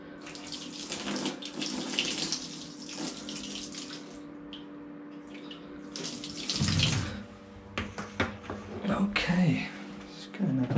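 Tap water runs through household plumbing to trace a leak, a steady rushing and splashing into a sink with gurgles, under soft whispered talk.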